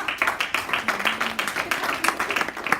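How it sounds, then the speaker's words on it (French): Scattered clapping from an audience after a talk on mentoring, a moderate patter of hands with a voice faintly mixed underneath. "Merci pour vos applaudissements"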